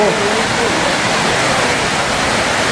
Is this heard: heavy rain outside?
yes